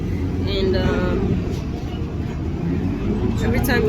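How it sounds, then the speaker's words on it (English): Inside a moving bus in Dubai early in the morning, a steady low engine and road rumble fills the cabin, with a faint voice briefly audible over it. "So I just got into the bus"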